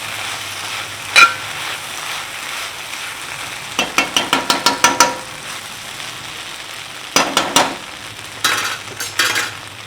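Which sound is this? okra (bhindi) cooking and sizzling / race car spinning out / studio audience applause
okra (bhindi) cooking and sizzling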